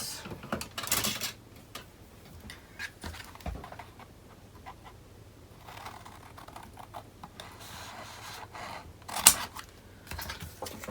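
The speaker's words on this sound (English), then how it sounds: "now we have to cut our corners" Scissors snip the corners of a cardstock mini album cover, a few sharp cutting clicks and crisp snips scattered among quiet handling of paper, close and fairly faint.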